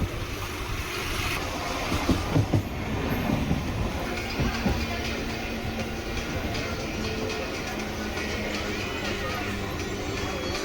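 A crowded MEMU train rumbles along with steady rattling and clatter, loud and continuous, with faint voices mixed in.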